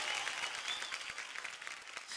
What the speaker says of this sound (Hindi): एक बार जोरदार तालियां दिब्बे